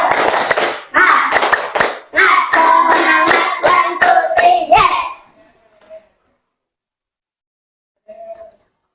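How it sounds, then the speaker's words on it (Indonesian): A group of children does a rhythmic spirit clapping chant in a classroom, with sharp unison claps in a quick patterned beat mixed with chanted voices. The sound ends abruptly, followed by near silence and faint brief tones. "Apa perlu tepuk semangat dulu?"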